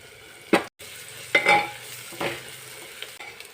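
Rice khichdi with coriander is sautéed in a pan, giving a low sizzle under a few separate scraping stirs of a spoon.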